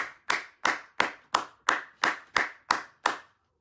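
A group of people clapping in unison, about nine sharp, evenly spaced claps at a steady rhythm, then silence.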